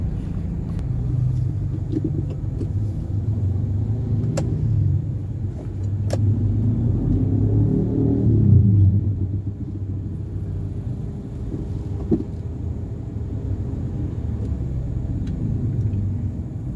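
Steady low rumble of slow, congested road traffic near a night market on the Bayur route from Tangerang toward Sepatan, with idling car engines close by and a few brief clicks and knocks, no talk.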